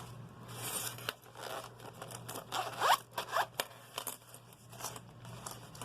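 Zipper on a cash budget envelope being pulled open, a few quick rasping zips among soft crinkling and handling noises, close and quiet with no talking.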